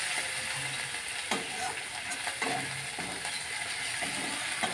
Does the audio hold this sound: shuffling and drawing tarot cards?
no